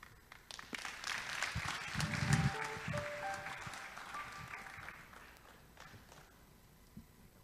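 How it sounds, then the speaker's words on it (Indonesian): Applause from a church audience at an evening inspirational leadership talk, a steady wash of many hands clapping that swells midway, with some low thumps and a brief voice underneath, then gradually thins toward the end. "Boleh kasih tepuk tangan sekali lagi Bapak Ibu"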